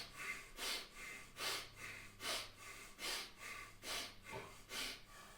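Deep, rhythmic breathing during a qigong exercise: about eight slow, forceful breaths in a steady pattern, each a breathy, nasal whoosh, close and soft, with no talking.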